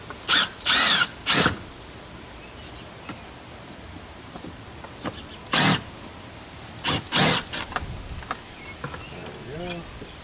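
A cordless power drill backs Phillips screws out of a mini LED wall pack light fixture in several short whirring bursts separated by pauses, close and fairly loud, with faint handling clicks between.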